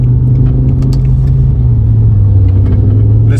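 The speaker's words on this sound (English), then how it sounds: "The second I hit that throttle from a dead stop, I literally jumped back again." BMW M5 E60 launching hard from a standstill in race mode, a loud, steady low engine rumble that holds throughout with slight rises in pitch, close and alone without talk.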